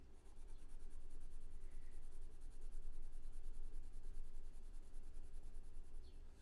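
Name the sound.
Arteza colored pencil coloring on paper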